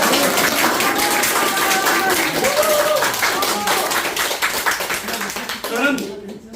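Audience clapping at a Korean book launch, a lively round of applause from a room of people with voices and cheers mixed in, thinning out toward the end.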